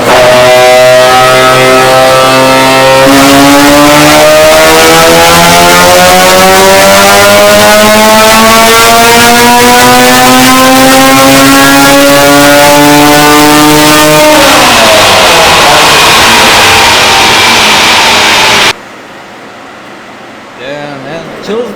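A naturally aspirated Mazda RX-7 rotary track car with individual throttle bodies screams on a dyno, its pitch climbing steadily toward 9000 RPM before the revs drop and cut off, leaving near-silence with faint voices.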